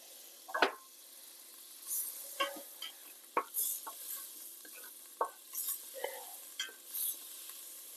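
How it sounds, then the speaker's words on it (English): Three tablespoons of butter sizzle in a hot pot over medium heat after a pot roast is seared, with soft frying crackle under scattered stirring scrapes and clinks. "I'm going to add 3 tablespoons of butter"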